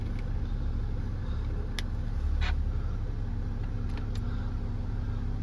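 A BMW X6 40d xDrive diesel with automatic gearbox runs with a steady, close engine rumble after starting, and a few faint clicks sit over the drone.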